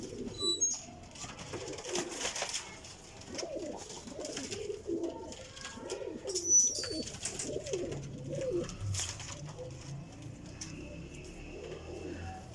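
Teddy pigeons, a stout Sialkoti breed, coo steadily in low, throaty rolling phrases near the microphone, with faint chirps and background birds over a constant outdoor hum.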